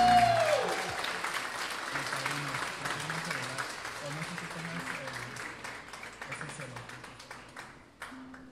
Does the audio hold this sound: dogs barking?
no